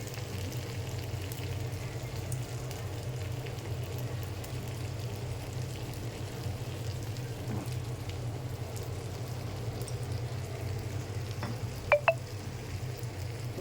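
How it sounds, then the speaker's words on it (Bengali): Poma fish frying in oil with tomato in a pan gives a steady, fairly quiet sizzle that holds evenly throughout, with a couple of brief clicks near the end. "টমেটো দিয়ে পোমা মাছ ভাজা ভাজা আমার হয়ে গেছে"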